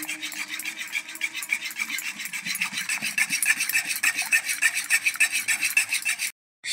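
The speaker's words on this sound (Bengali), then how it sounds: "দেখুন ভালো করে মিশিয়ে নিচ্ছি" A sago rasmalai mixture is stirred in a pot, giving a steady run of close, rhythmic scraping strokes with no talk, then stopping abruptly just before the end.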